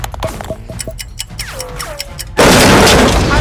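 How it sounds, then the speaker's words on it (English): Grenade explosions in a game begin as scattered sharp pops and bangs, then a sustained loud blast of roaring noise takes over and holds to the end. "I think they're actual grenades"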